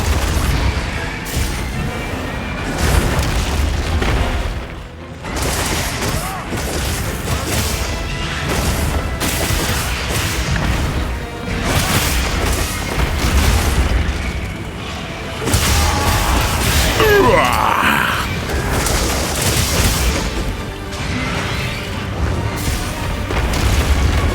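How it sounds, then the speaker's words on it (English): Repeated booming explosions after a monster's attack in the Monster Hunter Wilds video game, loud and sustained across a dense battle mix with several heavy bursts and crashes. "Oh, it's got like a couple explosions after that."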